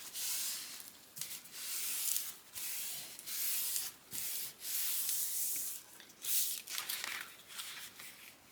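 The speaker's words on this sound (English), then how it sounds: "Go ahead and burnish that in place." A burnishing tool rubs paper down onto a lapbook in short scratchy bursts, a series of close, dry rasping strokes with brief pauses between them and no talking.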